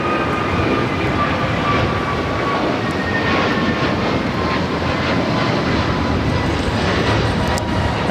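An American Airlines A321neo jet at LAX roars steadily and loudly, a broad continuous engine rush with a faint whine on top, sustained without any talk.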